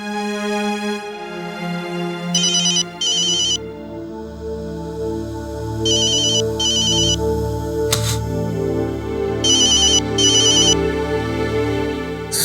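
An electronic telephone ringtone sounds at night in a Hindi TV drama scene. Short bright chirping bursts repeat in a regular pattern over a sustained musical backing, with no talk.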